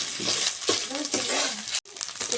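Fresh coconut powder frying in hot ghee, a steady close sizzle with stirring scrapes running throughout and one very brief break near the end.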